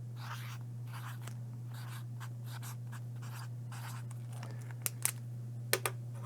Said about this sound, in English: So I'm going to write coffee with a fine point Sharpie.